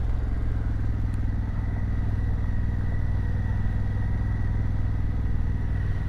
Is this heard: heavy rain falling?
no